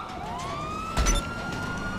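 A police car siren in the GTA 5 video game wails in rising and falling tones, steady across the clip, with a brief thump of impact midway through.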